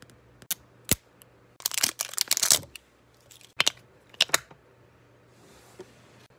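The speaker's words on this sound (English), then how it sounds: "We're gonna try to do like ASMR unboxing" Packaging for an Aquaphor product is opened up close, with scattered crinkly plastic and paper crunches, tears and clicks in short bursts separated by near silence.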